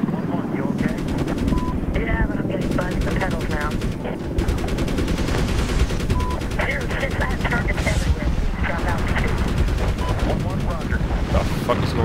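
Dense automatic and single-shot gunfire from the 2010 video game Medal of Honor fills the battle scene, loud and continuous with crackling bursts, while a player talks over it.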